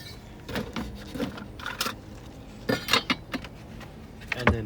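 A silverware tray is fitted into a storage box in a Tesla car camping setup, a series of close, sharp plastic clacks and rattles in uneven bursts with no talking.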